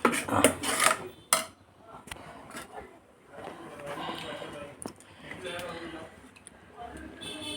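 A spoon scrapes and clanks through pumpkin curry in a pot, with a few sharp metallic knocks at first, then softer stirring under a speaking voice.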